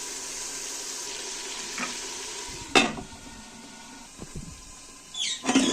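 Green chillies and tomatoes go into a beef and turnip curry frying in mustard oil, giving a steady sizzle with a few sharp clatters and scrapes of stirring; no one speaks.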